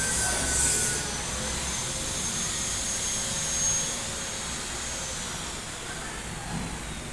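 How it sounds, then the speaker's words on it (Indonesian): A rumbling machine engine drones steadily at moderate level, a continuous broadband roar with a faint whine, heard alone without talk. "Biarkan suara mesin itu bergerak."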